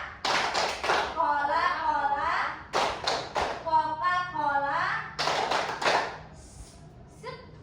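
Groups of quick rhythmic hand claps in short bursts alternate with voices chanting together, repeating the pattern three times, in a classroom "tepuk Coca-Cola" clapping chant.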